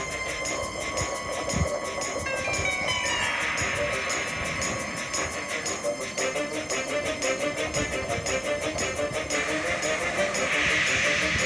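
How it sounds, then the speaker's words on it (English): Thomas the steam tank engine approaches along the tracks toward a siding on a misty night, with a steady hiss of steam and rhythmic rumbling that carries on without a break. "Percy was asleep in the siding and had no idea that Thomas was approaching him"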